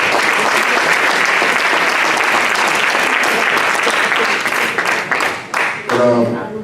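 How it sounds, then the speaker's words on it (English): Loud, sustained applause fills a banquet hall hosted by a mosque, dense clapping from a large audience that holds steady before thinning out near the end as a voice begins. "Y'all clapping too much"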